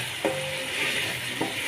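Chicken necks fry with ground red chilli, turmeric and coriander, a soft continuous sizzle broken by two brief scraping stirs of the spoon in the pan.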